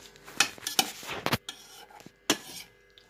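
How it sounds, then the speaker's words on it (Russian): Cutlet mince with egg is mixed in a bowl, a close series of wet slaps and dull knocks of a utensil against the bowl's side in an uneven rhythm, with short pauses between strokes. "Теперь мы все тщательно вымешиваем."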